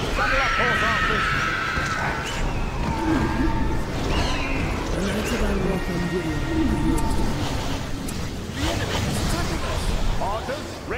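Horses neigh and whinny in the strategy game The Age of the Ring during an elves-versus-orcs battle, loud calls mixed with hoofbeats, battle clamor and voiced unit commands throughout.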